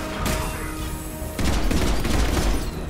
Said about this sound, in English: It took 6 shots to take down an Atlas with that.